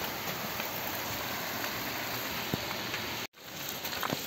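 Rain falls near a waterfall in cold weather at a volcanic site, a soft steady hiss of drops on surfaces with a few louder patters and a brief dropout near the end.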